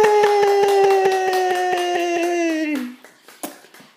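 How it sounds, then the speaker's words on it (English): A small group claps steadily in rhythm while a sustained sung note rings over it at a birthday celebration, then the clapping thins into a few scattered, looser claps. "Clap."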